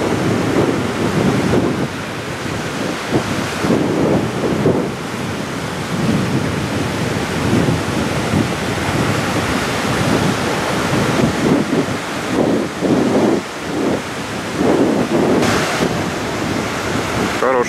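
Strong sea wind at Aktau buffets the microphone in loud, rough gusts, with surf and open-water rumble underneath throughout.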